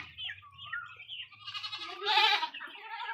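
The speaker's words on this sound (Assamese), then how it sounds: "এইখিনি মোৰ ছাগলী।" Domestic goats bleat close by in a short sequence of wavering cries, one louder call near the end, over a faint low background hum.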